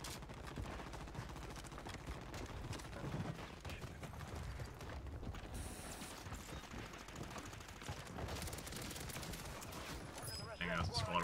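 SMG gunfire on Rebirth Island in Call of Duty Warzone, dense rapid bursts of shots and mechanical clatter running through the whole stretch, fairly quiet overall with a voice talking over parts of it.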